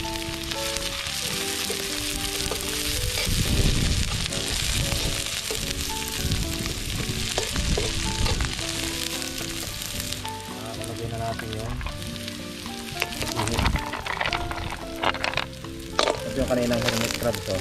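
Onion, garlic and ginger frying in hot cooking oil, a continuous close sizzle with clattering stirring and occasional louder crackles.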